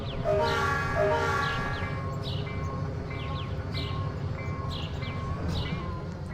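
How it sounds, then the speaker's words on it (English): A steam locomotive whistle in the Trainz railroad simulator game sounds in repeated tonal blasts over a constant rumbling train running sound, fairly loud and close. "Let's hear it for the whistle."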